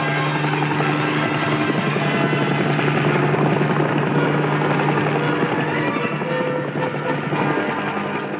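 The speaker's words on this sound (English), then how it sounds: "The idea is to use the helicopter to drive the buffalo into a capture corral." A helicopter flies low over the Australian outback herding buffalo toward a capture corral, its steady loud rotor drone continuous and close throughout with no voices.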